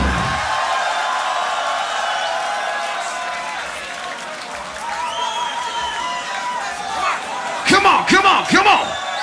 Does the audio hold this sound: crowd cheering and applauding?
yes